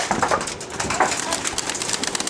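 Pigeons from a game-pigeon coop coo and flutter close by in a short, busy burst, with soft wing movement and rustling throughout.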